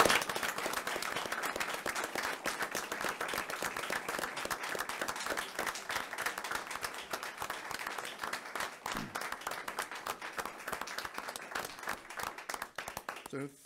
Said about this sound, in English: let us all join together in a round of applause for Merit Winter